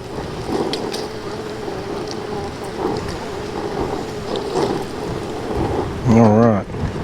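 Wind gusts on a Florida beach, a steady broad rumble with buffeting swells across the whole stretch, near and fairly loud, and a brief tonal beeping near the end.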